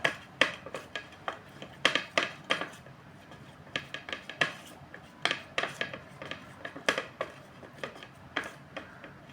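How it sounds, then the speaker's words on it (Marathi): Spoon scraping and clinking in a bowl while mixing a turmeric, gram flour, milk and milk cream face pack, with rapid irregular taps and scrapes, close and fairly quiet, no talk. "त्यात चिमूटभर हळद आणि दुधाची साय मिक्स करायची आहे छानपैकी मिक्स करून घ्या"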